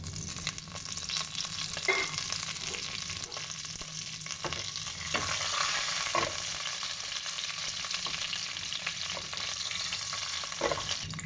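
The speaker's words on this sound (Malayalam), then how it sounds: "ഇനി ഞാൻ ഇതിനകത്തോട്ട് ഒരു 4 വറ്റൽമുളക് ഇടുവാണ്. പിന്നെ കുറച്ച് കറിവേപ്പില." Dried red chillies and curry leaves frying in hot oil, a steady close sizzle with occasional stirring clinks and scrapes of a spoon in the pan throughout, no voices.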